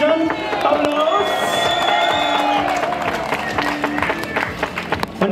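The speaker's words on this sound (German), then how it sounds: "Juniorenweltmeister Vincent Geiger, meine Damen und Herren. Applaus!" A crowd at a homecoming reception in Oberstdorf applauds and cheers a junior world champion: loud, sustained clapping mixed with shouts and whistles, filling the whole stretch without a break.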